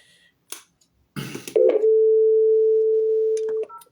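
A telephone rings out unanswered on a French call, heard as a single long steady electronic tone lasting about two seconds after a few brief clicks and rustles, with no voice picking up.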